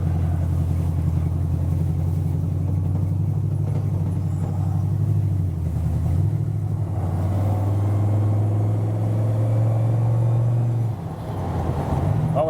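Steady low engine drone of a 1951 Chevrolet five-window V8 pickup with an 8-speed automatic cruising northbound on the I-5 freeway, heard from inside the cab, continuous and loud with road rumble and a brief dip near the end.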